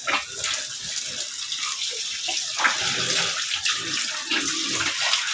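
Water gushes and splashes steadily from a tap into a container for sows to drink, a continuous close hiss with faint pig noises underneath.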